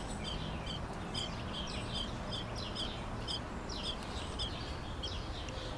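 Two rescued baby birds give short, repeated high chirps in quick bursts across the whole stretch, faint against a steady broadband background hiss, with no talking.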